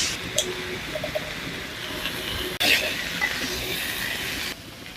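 Spices, eggplant and potato sizzle steadily in a hot pan for a Sylheti dried-fish dish, with a sharp stirring clatter partway through and the frying continuing close and constant.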